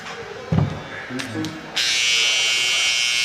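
Electric hair clippers fitted with a sharpened, modified blade buzz steadily after a switch-on click, a bright sustained whine following brief handling noises and a short bit of talk.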